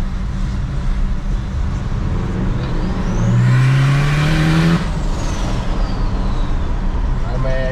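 A truck engine fitted with a turbo and flex pipe revs up in a rising, then falling sweep over a steady idle rumble, with a turbo whine, heard close with traffic-like noise around.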